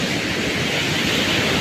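Waves break on Puri beach with a continuous, broad roar of surf, loud and close, and no pauses or voices over it.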